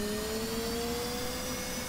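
An F/A-18C jet engine spooling during a cold startup in DCS World, a steady loud whine with sustained tonal hums over a broad roar, continuous and unbroken.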